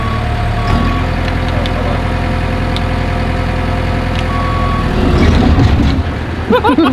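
Caterpillar D3K LGP low-ground-pressure bulldozer rumbling as it moves off with the throttle eased down, a loud steady diesel drone with track clatter that rises briefly, and a voice speaking at the very end.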